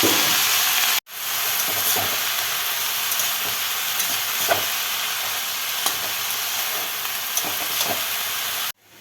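Bottle gourd leaves hit hot oil with crushed garlic, giving a loud, dense, unbroken sizzle that runs for several seconds between two brief cutoffs, with no talking.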